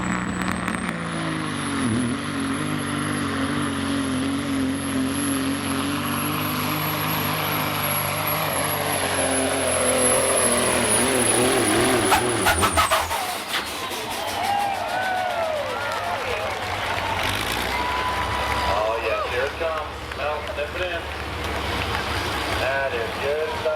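A diesel pulling truck roars in a sustained, loud run with a high whine that cuts off, then fades into rumbling, crowd-like background noise.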